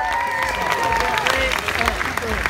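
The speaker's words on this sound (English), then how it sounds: "Let's have a round of applause, please" A crowd at a gaming festival in Ireland claps and cheers in a burst of applause, with voices mixed in over the clapping.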